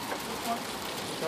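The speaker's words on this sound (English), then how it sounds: "It's raining!" Soft, steady patter of rain on a surface during a rainstorm in Boise, faint and continuous with no voices.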